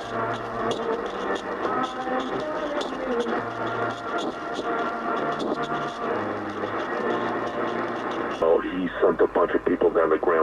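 An AM radio with a Sony AN-1 antenna crackles and hisses while being tuned across medium wave, with a voice and music drifting through the noise, then the signal shifts sharply near the end.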